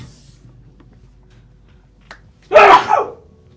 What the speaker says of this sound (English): Okay, I gotta sneeze.